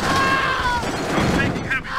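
Gunfire in a Tiberian Sun video game battle: heavy, continuous shooting and booming blasts, loud and close, with a unit voice speaking over the combat.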